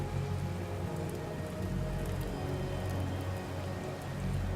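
Steady rain falling at night in the video game Kingdom, a dense even hiss with a low rumble underneath, constant and moderately quiet, with no talking.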